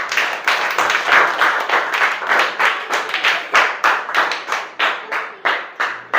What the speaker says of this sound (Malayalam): നിങ്ങൾ കയ്യടി കൊടുക്കാം.